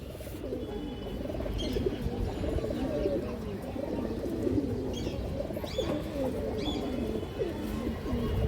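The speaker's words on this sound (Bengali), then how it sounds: "এই দেখেন রোড লাইনের কবুতর" Soft, steady cooing from several high-flyer Giribaz pigeons blends together in a continuous low murmur, with occasional faint chirps above it.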